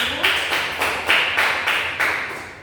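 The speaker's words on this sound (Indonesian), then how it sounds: "beri tepuk tangan terlebih dahulu" A classroom group claps together for the first student group, the claps landing in a steady rhythmic beat of about five or six bursts, fairly loud and close, with no talk over them.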